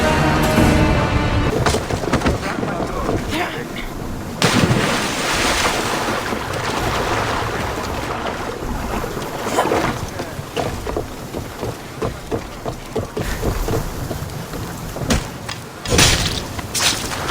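A sailing ship in the Assassin's Creed Odyssey video game cuts through wind and waves, with a loud, continuous rush of surf and gusting wind and periodic swells of water.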